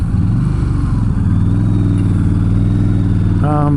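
A 2007 Yamaha V-Star 1300 motorcycle engine drones loud and steady under acceleration, its low throbbing tone continuous throughout, with a rider talking over it.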